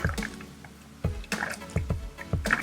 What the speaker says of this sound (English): apply acetone to each of the holes, just enough for your fingers to soak through